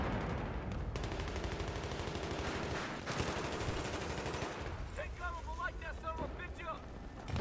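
Rapid gunfire in Battlefield 3, bursts of shots over a dense battle din with engine rumble, continuous and fairly loud, with brief electronic beeps near the end.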